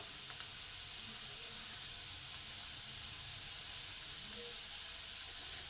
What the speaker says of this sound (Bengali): আর পেঁয়াজগুলোকে কন্টিনিউ নেড়ে নেড়ে ভেজে নিতে হবে।